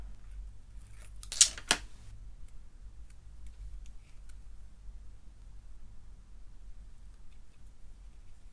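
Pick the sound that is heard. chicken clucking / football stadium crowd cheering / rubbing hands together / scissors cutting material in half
scissors cutting material in half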